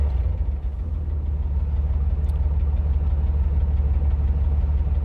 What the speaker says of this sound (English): Sounds like a really crappy V6.